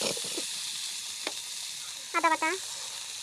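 Ginger and cardamom-cinnamon spice paste fries in oil with cumin for a pickle-style dal, a steady soft sizzle with faint stirring scrapes, and a voice speaking briefly over it.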